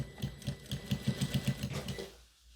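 A sewing machine stitches fabric in a quick, even run of about a dozen mechanical clacks, close and clear, then stops.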